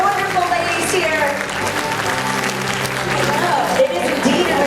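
A Liverpool comic con audience keeps up steady applause for the Sabrina, The Teenage Witch reunion cast, dense clapping with scattered crowd voices and cheers throughout.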